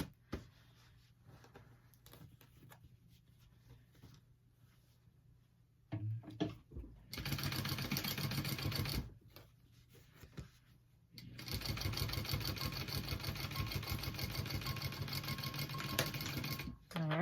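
A sewing machine bastes the edges of a diamond clutch wallet. A quiet stretch leads into a short burst of rapid stitching, a brief pause, then a longer, louder run of stitching up close.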